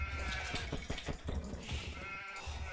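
Sheep bleating in the strategy video game Age of Empires II, a run of several short, fairly loud bleats in quick succession over a steady background of game ambience.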